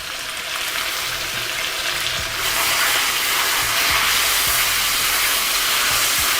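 Ginger garlic paste sizzles loudly and steadily in a hot karahi, a dense continuous hiss with a few faint clicks underneath and no voices.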